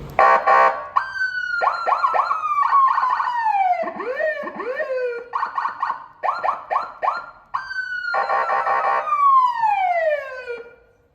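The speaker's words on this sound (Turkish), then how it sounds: "Birkaç siren denemesi yapacağım" A loud siren on a Volkswagen cycles through several patterns: rapid yelps, rising and falling wails and fast warbles, each burst followed by a short pause.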